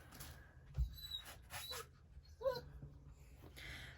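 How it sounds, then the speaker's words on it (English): Dogs barking and whining indoors during strong wind, with a few short, moderately loud yelps and whimpers spread through a windy, gusty background. "if you hear any whining or barking,"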